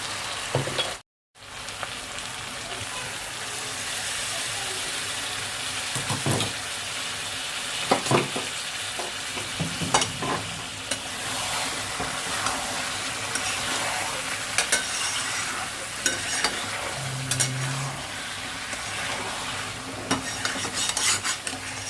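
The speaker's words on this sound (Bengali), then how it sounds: "এখানে মাংসটা ভালো মতন কষিয়ে নিয়েছি" Chicken sautéing with ground spices in a pan for a Bengali home-style chicken curry, a steady close sizzle with scraping stirs and occasional spoon knocks throughout, no talking.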